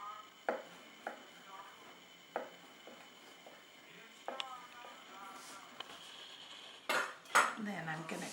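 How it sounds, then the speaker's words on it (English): A knife cuts through soft bannock dough on a board, giving a few separate dull taps and thuds with some clinks of utensils, while a person talks quietly nearby. "And then I'm just going to cut it into pieces."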